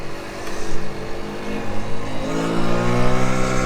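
A small Tao Tao engine revs unevenly, bogging down and then climbing again, loud and close with a rough buzzing drone and no talking.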